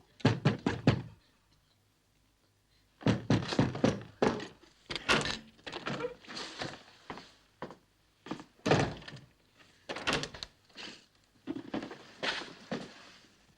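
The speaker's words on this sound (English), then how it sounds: "Open the door, Tommy!" Fists pound on a door in repeated loud bursts of heavy thuds, a short flurry, a pause, then longer runs of hard, uneven banging close by.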